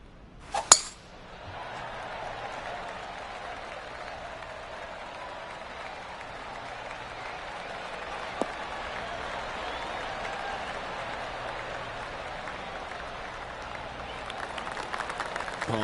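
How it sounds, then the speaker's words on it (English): Soft, polite golf clap from a small gallery in a golf video game, steady and fairly quiet, lasting most of the stretch after a sharp click at the start. "Oh, golf clap."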